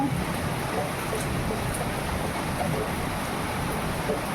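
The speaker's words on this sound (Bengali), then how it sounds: "দেখো বৃষ্টি হচ্ছে, দেখেছো?" Steady rain falling, a constant soft hiss with no breaks, at a moderate distance and with no voices over it.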